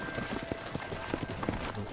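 Horse hooves clip-clop at a steady trot across dirt in Red Dead Redemption's western setting, a close rhythmic clatter with a brief whinny nearby and a faint voice underneath.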